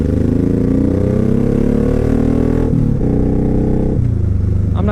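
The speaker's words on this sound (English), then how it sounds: "it comes equipped with the awesome aftermarket exhaust. Deep, loud, throaty, obnoxious, annoying sound." A Suzuki Boulevard C109R motorcycle with an aftermarket exhaust rides along, its deep, loud, throaty engine droning steadily and close with shifts in pitch as it changes gear, no talking.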